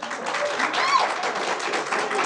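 A school governing board meeting audience claps in a steady mix of scattered applause, with voices murmuring underneath.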